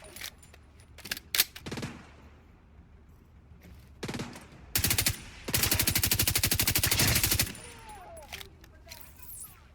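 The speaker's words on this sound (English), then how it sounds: "I get more using this assault rifle" Assault rifle gunfire in the video game The Division 2: scattered single shots and short bursts, then a long sustained automatic burst, loud and close amid game effects, with someone talking in between.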